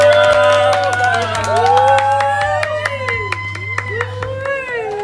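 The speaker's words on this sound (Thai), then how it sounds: "ขอเสียงปรบมือต้อนรับนะครับคุณแม่ดวงดาว จารุจินดา" An audience claps to welcome a guest onstage at a Thai fan day festival; scattered sharp claps ring out under voices carrying a melody, with a steady low hum beneath.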